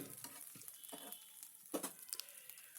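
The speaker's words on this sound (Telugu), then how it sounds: "అల్లం వెల్లుల్లి పేస్ట్ పచ్చివాసన పోయి కొద్దిగా వేగేదాకా ఒక నిమిషంలో వేగుతుంది వేగేదాకా ఆగాలి" Ginger garlic paste frying in a pan for a carrot curry gives a faint, soft sizzle and crackle, with a few light stirring scrapes close by.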